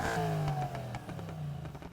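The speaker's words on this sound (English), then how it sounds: "let's talk about the exhaust sound." A car exhaust revs in the racing video game Need For Speed Heat, rising and falling in pitch as the throttle blips, loud and close with no talking.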